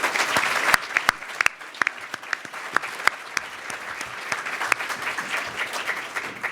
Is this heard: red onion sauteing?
no